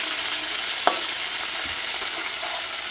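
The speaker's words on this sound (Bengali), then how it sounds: "কড়াইটা গরম হয়ে গেছে তো মাছটা দিয়ে" A steady, hissing sizzle of small fish frying in hot oil in a wok, with a sharp crackle and a soft clink partway through.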